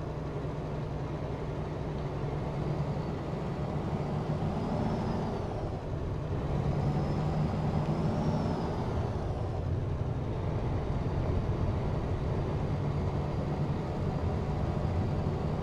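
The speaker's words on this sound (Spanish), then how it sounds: "Ahí se mira el freno de motor, sí, mire." Low, steady rumble of a Freightliner Classic XL truck in American Truck Simulator with its engine brake engaged, a continuous droning growl that swells slightly midway and holds on without a break.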